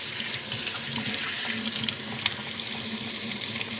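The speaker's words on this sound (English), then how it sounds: "I'm just going to use some tap water right now" Tap water pouring steadily into a container, a continuous close rushing splash with no break.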